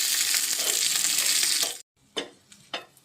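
Cashews and raisins frying in ghee give a loud, continuous close sizzle that cuts off abruptly, followed by a few sharp scraping and stirring clicks in the pan.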